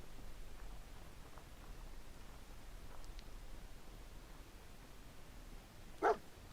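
A single short dog bark rings out near the end from a canine companion in the Fallout 4 video game, brief and fairly close over a quiet ambient background.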